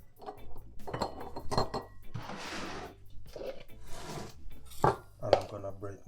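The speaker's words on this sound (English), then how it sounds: "I'm gonna break my eggs in my measuring cup" Eggs cracked against a measuring cup for Jamaican-style bread pudding, sharp clinks of shell on the cup edge and soft splashing pours, close in a kitchen with a few cutlery taps.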